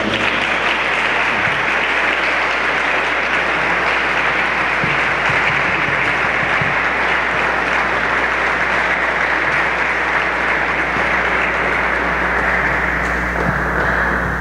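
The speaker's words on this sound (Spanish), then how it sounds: "Un fuerte aplauso." Strong, sustained applause from a conference audience at a philosophy lecture in León, Guanajuato, a dense even roar of clapping filling the whole stretch without letting up.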